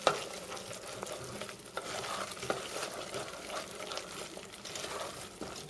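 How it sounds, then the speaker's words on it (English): Toffee mixture with sliced almonds being stirred in a pan on the stove: a steady, close scraping and sizzling texture with scattered soft clicks of the spoon, alone and without voices. "I'm going to stir it up really good"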